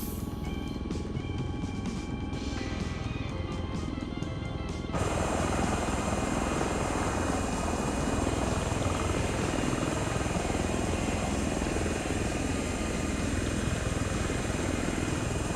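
Simulated V-22 Osprey tiltrotor engines drone in a flight game, a loud steady rotor and turbine roar that swells fuller after a few seconds and holds constant, with no talk.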